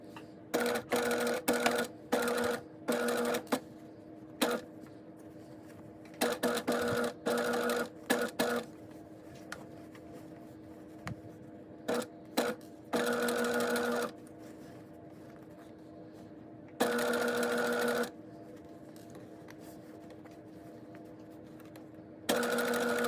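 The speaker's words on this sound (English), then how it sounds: "Now I'm going to go and sew it." A sewing machine stitches a single-edge gathering in short, loud, whirring bursts, some rapid and choppy, others longer runs, separated by quiet pauses over about twenty seconds.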